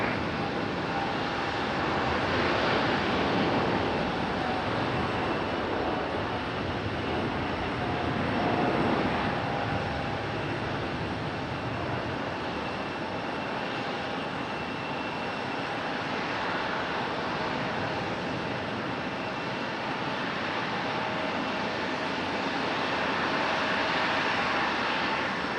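An Air France heavy jet roars steadily on takeoff from runway 5 left at Raleigh-Durham International, a broad, sustained engine rumble holding at constant loudness throughout, heard from nearby with no talk.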